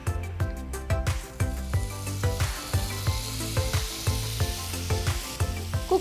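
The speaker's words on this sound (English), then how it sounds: "Heat the pan, add 2 teaspoons of oil. Now add the marinated paneer pieces." Marinated paneer pieces hitting hot oil in a pan, with a loud steady sizzle under a regular repeating rhythmic beat, close and continuous throughout.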